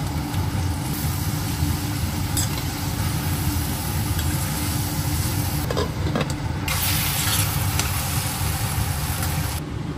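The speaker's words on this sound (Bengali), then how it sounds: "শুটকি আগে তেলে সামান্য ভেজে পেঁয়াজ রসুন কুচি দিয়ে দিব।" Dried fish sizzles in hot oil with chopped onion and garlic, giving a steady, loud, close hiss that runs without a break, with a few faint clinks.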